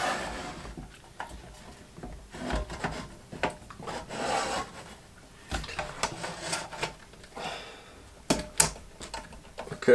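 Metal parts rasp and scrape in uneven bursts as a power supply assembly is slid into a hipot tester chassis, the close scuffs and rubbing coming and going with a few sharper knocks.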